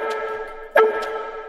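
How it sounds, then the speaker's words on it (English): A synthesized wub run through an Ableton resonator tuned to D, heard as a sustained, tonal, ringing drone with a brief brighter swell near the middle, close and alone. "this noise is actually a wub that I just put the resonator on Ableton, and I just pitched it to D"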